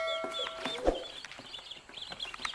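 Young Rhodilon chicks and hens in a backyard coop, with close clucking and short peeping calls in quick succession, alone without talk.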